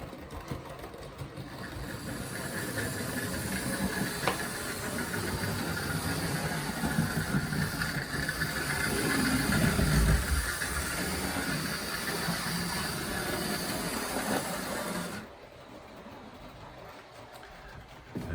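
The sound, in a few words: Hornby King model locomotive running laps on track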